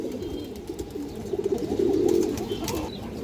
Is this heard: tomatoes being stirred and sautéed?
no